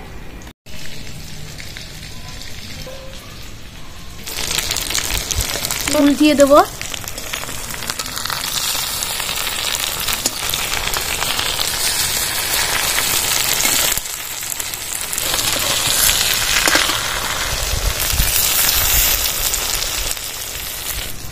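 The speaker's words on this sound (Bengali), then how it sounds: "বেগুনগুলো এরকম লাল লাল করে ভেজে নিতে হবে।" Eggplant slices fry in hot oil over low to medium flame, giving a continuous crackling sizzle that surges when the pieces are flipped, with someone speaking briefly over it.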